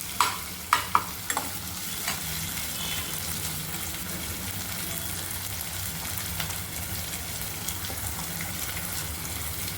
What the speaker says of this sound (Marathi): आता टमाटर टाकून घेऊया. थोडा गॅसची फ्लेम वाढवूया.